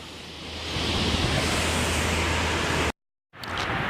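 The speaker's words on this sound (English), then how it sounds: "the waterfall." Waterfall beside the Hanover Street Bridge on a bike ride, a steady broadband rushing roar of falling water, loud and constant, briefly cut out before resuming.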